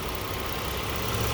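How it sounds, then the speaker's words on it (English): A 2019 Ford Transit cargo van's 3.7 V6 Duratec dual overhead cam engine idling, a steady smooth low rumble heard up close and alone. "Idling very smoothly."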